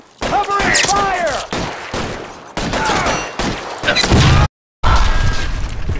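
Rapid gunfire bursts in the L.A. Noire traffic desk case, loud and continuous with heavy thuds, under shouted voices and a brief silent gap before the shooting resumes.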